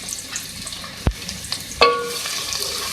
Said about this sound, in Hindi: सबसे पहले ऑयल में हम प्याज ऐड करेंगे 2 मीडियम साइज़ की। इसको जो है मैं फ्राई करूंगी।